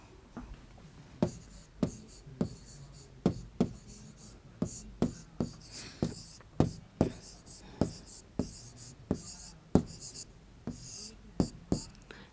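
Chalk or pen strokes writing numbers during a Class 5 math lesson, a steady series of sharp taps and scratches repeating about once a second, close and clear over a quiet room.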